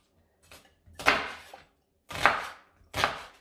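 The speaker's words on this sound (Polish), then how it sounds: "całe przygotowanie tych warzyw polega na tym, że trzeba je po prostu pokroić" Knife chopping vegetables on a cutting board: three or four distinct, fairly close cuts in an uneven rhythm, with short pauses between them and no talk.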